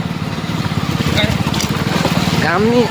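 A motorcycle bumping along a badly broken road inside Kumarkhan village, its engine a close, rapid pulsing thrum throughout, with a brief voice near the end.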